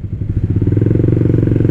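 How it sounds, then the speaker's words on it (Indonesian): An everyday commuter motorcycle idles steadily up close, its engine pulsing in an even, loud, regular beat with no voices over it. "Nih gua kalau nge-idle normal, maksudnya ya motor harian normal dan tidak ada anehnya gitu"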